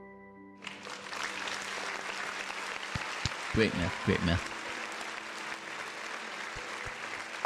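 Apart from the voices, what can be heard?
speaker clapping hands like audience applause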